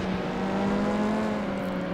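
A race car engine in the video game FlatOut 2 on PS2, revving to 9,000 RPM, drones steadily and loudly throughout with a strong, sustained harmonic whine and no talk.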